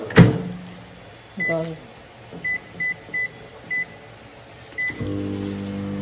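A microwave oven warms food: a sharp knock and a soft thud, then a series of short keypad beeps, and finally the steady low hum of the oven starting up.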